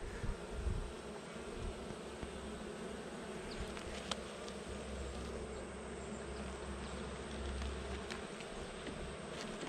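Dense, steady buzzing of honey bees swarming around a hive, a constant close drone filling the whole clip with a few louder passes of individual bees near the microphone.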